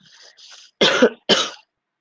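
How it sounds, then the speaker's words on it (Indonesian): Two sharp, close coughs in quick succession follow some soft breathy throat noise, then silence. "Agak batuk, saya agak serak suara."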